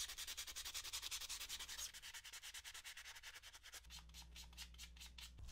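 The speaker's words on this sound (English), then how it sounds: "And now I can move on to the part that takes the most time, sanding." A small 3D-printed resin Jawa toy being sanded by hand, quick rhythmic back-and-forth rasping strokes, close and soft with no talking.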